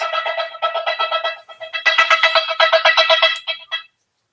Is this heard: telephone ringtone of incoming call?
yes